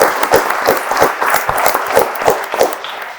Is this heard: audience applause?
yes